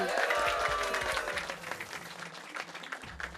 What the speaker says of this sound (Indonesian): Tepuk tangan yang panjang dong